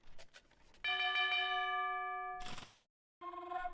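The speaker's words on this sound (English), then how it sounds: "the town bell has been rung because of these 3 knights" Town bell alarm in Age of Empires 2: a bright, sustained metallic bell tone rings loud and steady for about a second and a half, cuts off, then starts again after a brief silence.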